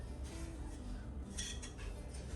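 Warm melted jaggery being mixed quickly in a bowl for ladoos, with light clinks of a spoon against the bowl over a steady low background hum.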